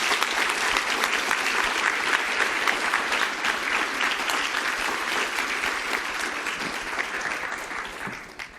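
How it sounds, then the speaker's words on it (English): Audience applause welcoming a keynote speaker at a product academy event, a dense sustained wash of clapping from a large crowd that holds steady for several seconds, then tapers slightly at the end. "let's welcome with a round of applause."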